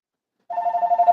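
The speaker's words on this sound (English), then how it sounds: "the phone's going off" A telephone rings with a steady electronic warble, starting abruptly after a brief silence and continuing close and clear with no voices.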